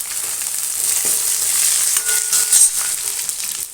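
Crushed garlic and curry leaves fry in a pan of oil for a brinjal and black chickpea gravy, giving a steady, close hiss of sizzling that holds evenly throughout with a brief crackling flare near the end.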